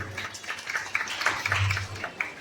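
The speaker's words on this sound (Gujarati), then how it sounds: "તાળીઓના ગડગડાટથી વધાવીશું" Audience applause at a girls' worship and gift distribution event during Gauri Vrat at Neelkanth Mahadev temple, a moderate patter of clapping hands spread through the crowd, with a voice over a microphone beneath.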